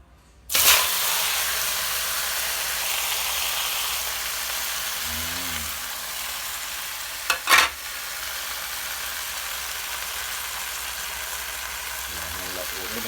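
A loud, steady sizzle of morning glory greens hitting a hot wok over high flame, continuous hiss with a couple of brief clatters and a voice talking under it.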